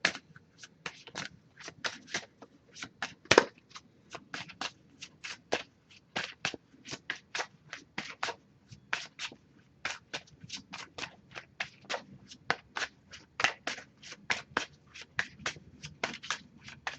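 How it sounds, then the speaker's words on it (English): An oracle card deck being shuffled, a long run of crisp, rapid riffling snaps and flutters repeating steadily and close by, with no talking. "I'll have Oracle card deck here. Just going to pull a single card from this deck."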